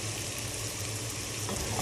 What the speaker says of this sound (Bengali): একটু হালকা ব্রাউন করে নেব পেঁয়াজটাকে।